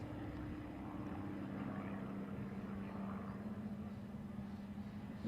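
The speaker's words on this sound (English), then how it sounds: "Nice crisp flying out there by your Phillips 66 Aerostars in those German designed and built Extra 300 series aircraft." Propeller-driven Extra 300 series aerobatic planes, German designed and built, flying in formation at an airshow; a steady, fairly distant engine drone with a sustained low hum holds throughout without breaks.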